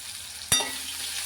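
Sliced ridge gourd frying in oil, a soft steady sizzle with one sharp utensil clink partway through.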